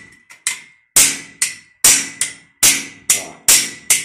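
Hammer tapping a guide pin into metal, about ten sharp ringing metallic strikes in an uneven rhythm, starting light and growing firmer, each blow close and decaying quickly, with no talking.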